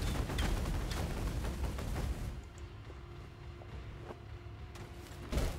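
Bombardment skill explosions in the Path of Exile video game, a rapid rumbling run of blasts and impacts that thins out partway through, leaving scattered lighter hits and one last thump near the end.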